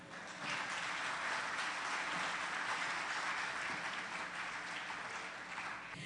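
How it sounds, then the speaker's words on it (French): Audience applause at a launch ceremony for Keeng and Mocha, a steady broadband wash of clapping from a crowd that holds at an even, moderate level for several seconds without voices. "Encore des applaudissements pour Mami Pouela"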